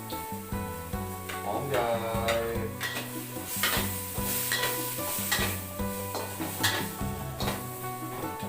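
Steady sizzling and frying with scraping and stirring of shrimp, squid and onion in a hot wok, continuous and close, with faint clatter of utensils.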